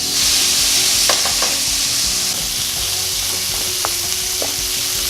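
Ground beef sizzles loudly and steadily in a hot pan, a dense continuous hiss up close, broken by a few light scraping taps of a utensil, with no talking.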